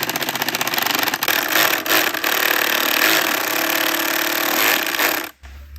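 A screw is power-driven into a cracked wooden cabinet door, a loud, steady whirring drone with a few brief stutters, running several seconds before cutting off abruptly near the end.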